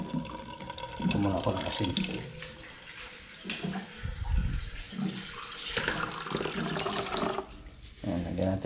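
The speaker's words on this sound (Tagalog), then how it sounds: "Lagyan muna natin ng tubig para lagyan ng asin" Water pours steadily into a bowl to soak bitter gourd, a close continuous splashing rush that swells and dips, with a person speaking briefly over it.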